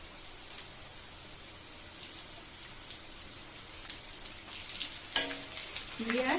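Steady crackling sizzle of cumin seeds and bay leaves frying in hot oil, with a few sharper pops and a brief metallic scrape near the end.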